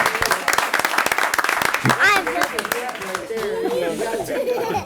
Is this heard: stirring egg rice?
no